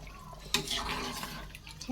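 Cooked rice and its water poured into a pot for mutton biryani: a splashy pour begins abruptly, followed by wet sloshing and a few soft drips, close and fairly quiet.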